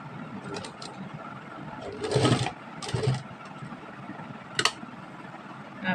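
A sewing machine stitching a folded fabric strip on a girl's kaftan top, with a low mechanical whirring throughout and a few brief louder bursts as it runs and stops.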